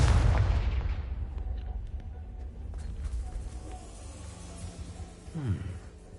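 A Confringo blasting spell is cast in Hogwarts Legacy, bursting loudly at the start and then trailing off into a low rumbling decay, with a brief whooshing sweep near the end.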